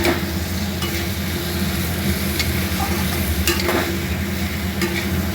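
A spoon steadily stirs elephant foot yam and soybean curry frying in hot oil, a constant close sizzle with occasional louder scraping strokes against the pan.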